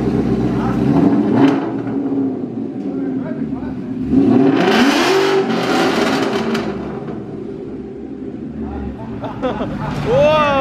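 A Mustang engine revs loudly and close, rising and falling in a couple of swells. People talk and laugh over it, and a whoop comes near the end.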